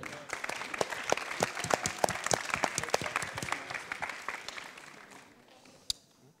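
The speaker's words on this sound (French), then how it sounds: "Et on peut les applaudir." An audience at a game jam results ceremony applauds the winners: dense clapping from a crowd, loud at first and then thinning out to a few scattered claps and a final single clap before fading.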